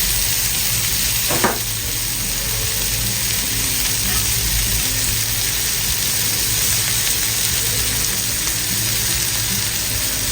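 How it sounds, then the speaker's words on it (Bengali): Soya chops browning in hot oil in a pan, a steady close sizzle that runs unbroken and loud throughout, with one brief clink near the start. "হালকা ব্রাউন করে ভাজতে হবে"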